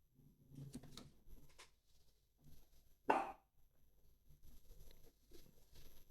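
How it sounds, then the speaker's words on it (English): A single short dog bark sounds from a distance in a quiet room, with faint shuffling and soft background noise around it. "it's my dog barking."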